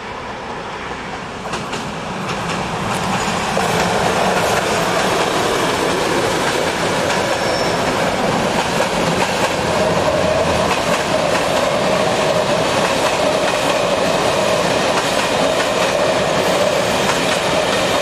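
A Class 749 diesel locomotive in Letohrad, Czech Republic, passing on rails: a loud, steady rumble of wheels and wagons with clickety-clack and faint wheel squeal that swells after a couple of seconds and then holds close.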